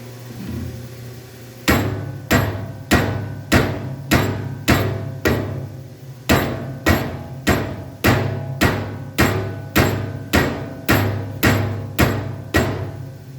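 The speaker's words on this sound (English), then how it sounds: "That's about how hard I'm dropping the hammer on it." Steady, heavy hammer blows land one after another on a big heavy table, about one or two per second after a short pause, each a loud ringing thud.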